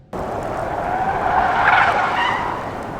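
A Tesla Model 3 Performance in track mode skids with a sustained tire squeal rising and fading over motor noise, loud and close, no voices.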